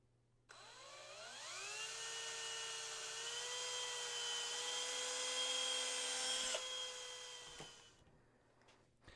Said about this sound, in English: we're just gonna drill this real fast so that we have this side drilled